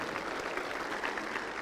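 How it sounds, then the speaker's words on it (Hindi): Steady applause from an audience welcoming people at a Nirankari religious gathering for the Run for Oneness, a dense unbroken wash of clapping held at even volume from start to finish with no voices above it. "जोरदार तालियों से हम"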